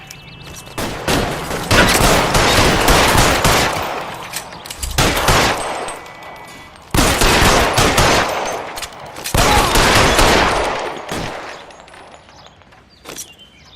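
Sustained bursts of automatic and rapid gunfire in a video game shootout at the Nicholson Electroplating plant in LA Noire, loud and close, coming in several long volleys separated by brief lulls, with no talk over it.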